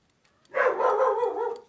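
A dog barks continuously in a brief indoor burst, loud and close, the barks running together for over a second after a quiet start.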